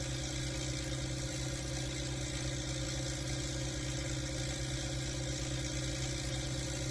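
Modified HMT 3522 tractor engine labouring while driving up a bridge, a steady low throbbing drone with constant rhythm and no variation, close and alone without talk.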